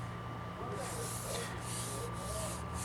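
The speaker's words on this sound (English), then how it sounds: "Listen to my fingers. You hear the roughness?" Fingertips rub across the rough, rock-chipped painted panel of a 2014 Dio scooter in several short, raspy strokes, each a scratchy swish heard up close.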